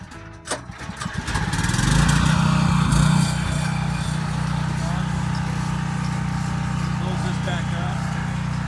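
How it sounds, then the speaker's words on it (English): A generator pulls into life and settles into a loud, steady engine drone close by, with people talking over it. "Start the generator."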